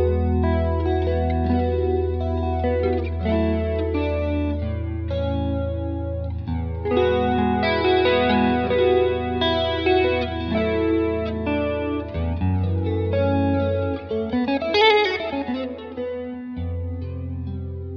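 An electric guitar runs through a Joemeek FloorQ compressor and an MXR Carbon Copy analog delay, playing sustained chords and melodic lines with lush repeats and a wide chorus-like shimmer, steady and up close with no talking.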